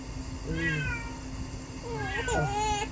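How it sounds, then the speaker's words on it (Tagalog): A cat meows twice, first a short cry and then a longer wavering one, close and clear over a steady low background hum. "Ay, pusa oh."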